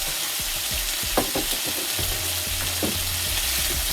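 Seasonings and Scotch bonnet pepper stir-fry in a pan for Jamaican ackee and saltfish, giving a steady close sizzle broken by scraping stirs.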